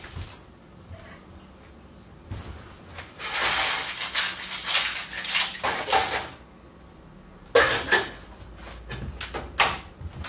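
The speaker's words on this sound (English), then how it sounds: "I'm going to peel some carrot." Carrots being peeled in a home kitchen for seafood chowder, bursts of quick scraping strokes from the peeler in two main runs with a short pause between, close and moderately loud.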